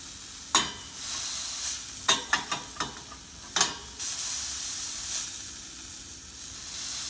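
Homemade pork sausage fries in a pan with a steady bright sizzle, broken by several sharp stirring and scraping clicks near the start and middle, close and with no speech.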